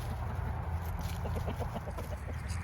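A short run of rhythmic clucks from chickens, close by, over a steady low rumble of wind or background noise.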